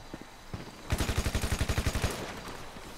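Shotgun fire during a hunting chase in Grand Theft Auto V, a fast, evenly spaced run of about a dozen loud, punchy blasts after a couple of softer ones, with no talk.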